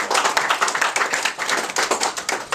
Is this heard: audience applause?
yes